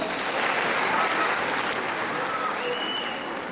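Audience applause for a music group at a Caucasian association's season-finale show in Kayseri, a steady dense wash of many hands clapping throughout, moderately loud with no talking.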